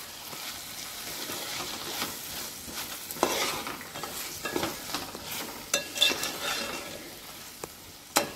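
Peas, potato and drumstick pieces sizzle steadily in a hot pan while a spoon stirs and scrapes through them, with occasional clinks against the metal and no voices.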